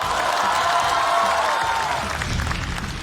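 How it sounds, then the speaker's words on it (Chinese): A studio audience breaks into loud, sustained applause with some cheering as a stand-up comedian is welcomed onto the stage at a comedy competition show, the clapping dense and close before easing slightly toward the end. "掌声有请宋万博"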